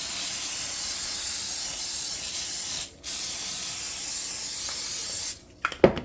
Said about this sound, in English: I'm going to spray that parchment paper with some non-stick spray